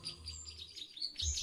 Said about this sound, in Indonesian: Karena hanya burung perenjak sawah jantan yang kicauannya akan sangat bervariasi